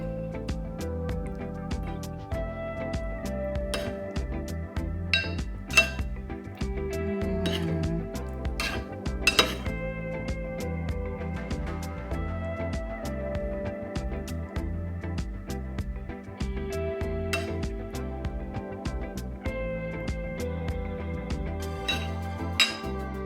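Metal utensils clink against a bowl as broccoli cheese soup is scooped, with scattered bright taps and chimes over a steady, faint kitchen background.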